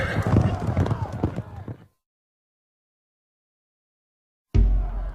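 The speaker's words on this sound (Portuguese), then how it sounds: "ouviu-se o som dos cavalos dos soldados comandados por Febo de Chateaupert que entravam na praça" Hooves of soldiers' horses clip-clop as they enter a town square, loud and busy with sharp repeated strikes, cut off by a long stretch of silence before resuming abruptly.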